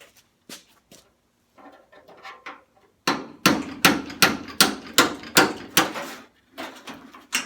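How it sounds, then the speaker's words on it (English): A hammer strikes a seam buster on the skin of a 1967 Camaro door, first a few scattered light taps, then a run of sharp, evenly spaced metallic blows close by. "Some taps with a seam buster and a hammer, and the skin should release itself from the shell."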